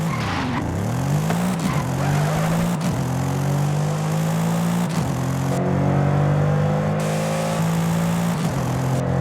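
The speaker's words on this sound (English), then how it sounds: "(2018 AMG E63), all that power just to whine." A 2018 Mercedes-AMG E63 in the Forza Horizon 5 racing game: a loud, high engine whine climbs in pitch, drops at each gear change, then climbs again in repeated sweeps.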